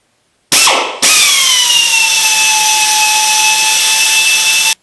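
A power drill bores a hole through metal of a handmade motorcycle fuel tank: a short whine at the start, then a loud, steady high-pitched scream with a falling pitch that holds for several seconds before stopping abruptly.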